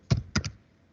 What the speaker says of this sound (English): I'm typing an IP address